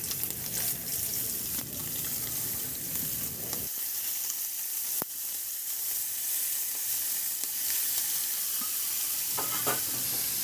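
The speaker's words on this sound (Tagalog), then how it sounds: "Maglagay na ako ng mantika sa kawali at iprito ko na yung pusit." Squid fries in hot oil in a pan. A close, bright, crackling sizzle fills the scene, softens to a quieter hiss partway through with one sharp snap, then grows busier again near the end.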